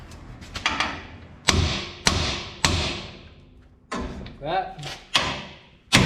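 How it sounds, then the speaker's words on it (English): Sharp metallic hammer strikes on a ball joint face during a Dmax suspension lift install, about eight distinct blows in irregular rhythm, each ringing briefly before decaying, close and loud, with someone speaking briefly between hits. "get yourself a hammer and hit right on the face there of that one"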